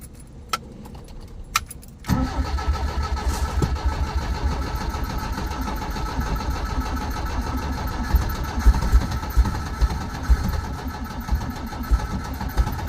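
A 1972 Toyota Corolla TE28 engine with carburetor trouble starts after a few clicks and keys jangling, then settles into a steady, close, rumbling idle with slight uneven pulses.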